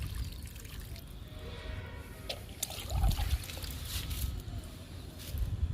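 Water poured from a container onto rose and jasmine plants in a home garden, a soft steady splashing and trickle close by, swelling briefly midway, with no talk over it.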